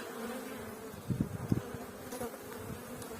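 Honeybees buzz steadily inside an open hive while queens are introduced into hives with splits, a dense close-up drone with a few louder swells as hands work among the frames.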